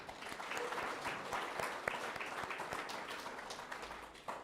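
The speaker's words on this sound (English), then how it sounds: "Let's give them a round of applause." A library audience at a writers' festival author event gives a round of applause: steady, moderately loud clapping from many hands with individual sharp claps standing out, continuing evenly throughout.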